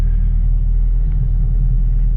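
A Chevrolet Camaro ZL1 1LE sports car, driven for the first time after six months of storage, pulls off on a limestone gravel road with a steady, close, deep engine rumble.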